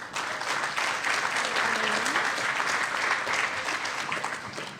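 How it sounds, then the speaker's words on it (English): Audience applause for Heather at a 2023 university volleyball season banquet, sustained even clapping from a crowd with a voice briefly heard beneath it. "So give Heather a great round of applause."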